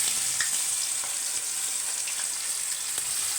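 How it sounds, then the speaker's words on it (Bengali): Chopped onions, six or seven of them, frying in hot oil with whole garam masala and cardamom for mutton kosha, giving a steady, dense sizzle that holds even throughout with faint crackles and no voices. "6-7টা মতন পেঁয়াজ আমি কুচো কুচো করে রেখেছিলাম, সেটা আমি তেলের মধ্যে দিয়ে দিলাম।"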